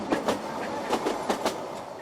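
A train on the Kangra Valley Railway rolls along with rhythmic clickety-clack of wheels on rail joints, paired beats repeating at a steady pace, heard fairly close with no voices.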